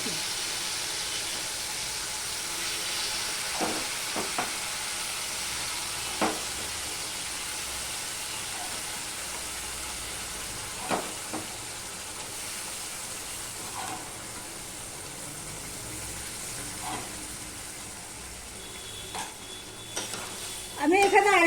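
Moong dal and cucumber cook in a pan for a vegetarian lentil dish: a quiet, continuous sizzle with occasional spoon scrapes and taps from stirring, ending in a louder clatter.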